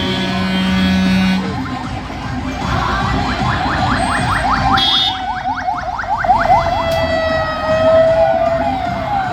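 Ambulance siren on a road near Pookkottumpadam, Kerala, rapidly wailing and rising through repeated sweeps as the vehicle speeds by with traffic noise, loud and close, with no talk.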